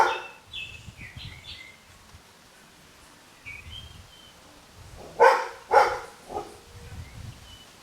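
Dogs bark several times at a distance, loud sharp yelps clustered near the end, with birds chirping faintly in the background during an outdoor yoga class.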